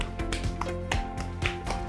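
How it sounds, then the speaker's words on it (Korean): A few hands clap briefly in a coding lecture, a quick run of about half a dozen sharp, close claps over a faint steady hum. "박수!"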